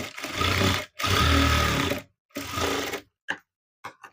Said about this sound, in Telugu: దీనిపైన నుంచి ఒక కుట్టు అనేది వేయాలి.